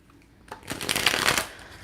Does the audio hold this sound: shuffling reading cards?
yes